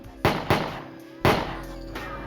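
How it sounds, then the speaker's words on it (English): Gunshots crack out: two quick bangs, then a pause and a third louder shot, followed by a fainter fourth, each with a ringing tail. "they heard what sounded like gunshots"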